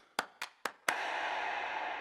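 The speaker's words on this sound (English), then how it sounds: "We have this clap fill that goes into a hey chant." Three sharp claps in quick succession lead into a loud group shout of "hey" that hangs and fades slowly.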